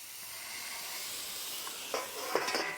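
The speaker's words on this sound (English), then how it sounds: "Can you hear it sizzle?" Shrimp sizzle on a hot griddle with a steady, faint hiss, broken late by a few sharper crackling spurts, with no voices over it.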